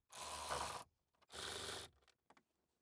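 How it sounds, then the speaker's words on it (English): A ratchet tightens 7mm bolts inside a Ford Bronco, heard as two quiet, separate bursts of rapid clicking, each lasting under a second, with short pauses between. "Now we're going to be securing this piece back into place using our 7mm bolts"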